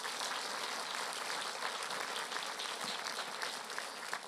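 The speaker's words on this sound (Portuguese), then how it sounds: "Você pode dar uma salva de palmas para esquentar aí?" A congregation claps together in a sustained, even round of applause, many hands at moderate distance, continuing steadily with no speech.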